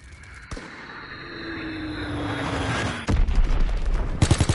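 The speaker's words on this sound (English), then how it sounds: "Enemy bomb incoming. Get to cover." Enemy bomb strike in Call of Duty WWII: a falling whistle descends over a rising roar, then a heavy blast hits at about three seconds, followed by rumbling debris and crackling fire.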